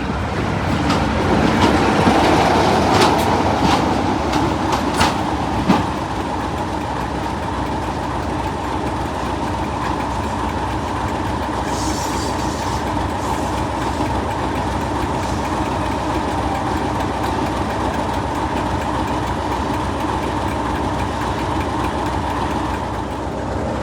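Diesel train departing toward Norden on the Swanage Railway with D6515 at the rear, a steady loud engine rumble and rolling wheel noise, with a few sharp clanks early on, continuing evenly without speech.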